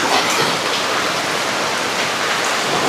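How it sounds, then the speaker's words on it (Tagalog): Heavy rain pours steadily in Tuguegarao City during a typhoon, a loud, dense, continuous hiss of water with no talking. "Malakas na yung tubig ulan dito mga ka-travelers"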